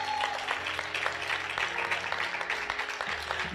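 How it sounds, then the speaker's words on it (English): Audience applause for Reverend Will Hall at a Saturday morning community forum, a steady patter of many hands clapping in a hall, moderately loud and continuous with a faint background hum. "Give Reverend Will Hall another round of applause."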